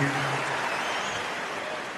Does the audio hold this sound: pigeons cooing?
no